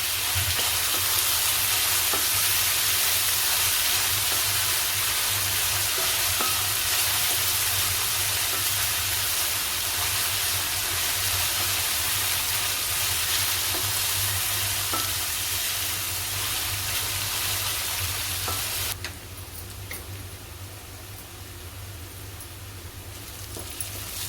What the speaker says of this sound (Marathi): कांदा चांगला शिजवून घ्यायचंय आहे